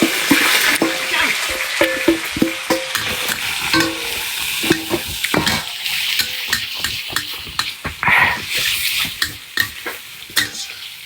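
Food is stir-fried in a pan in a rural home kitchen: repeated sharp spatula scrapes and clanks over a continuous sizzle, loud and close, with no talking.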